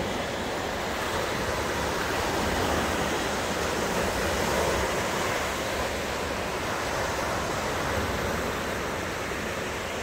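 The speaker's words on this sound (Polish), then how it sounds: "Szum morza." Steady broadband roar of sea waves breaking on an empty, wild Baltic beach on a sunny day, continuous surf with a constant wash and no voices.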